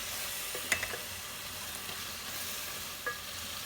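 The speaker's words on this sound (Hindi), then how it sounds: "आलू को 2 मिनट के लिए भूनेंगे।" Potatoes frying in curry gravy in a pan, with a steady soft sizzle and a few light clicks of a spoon stirring them.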